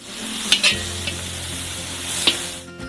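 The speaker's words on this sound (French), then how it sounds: "Versez une grande quantité d'oignons hachés. Faites-les frire jusqu'à ce qu'ils soient transparents." Chopped onions sizzle in melted butter inside a large cauldron, a steady close frying hiss broken by a few sharp crackles and stirring scrapes, with no voices.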